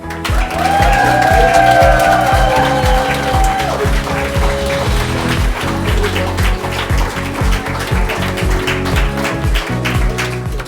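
An audience applauds and cheers for a guest on a homebuying show, with sustained, fairly loud clapping that carries on steadily, a few tonal sounds mixed in early on.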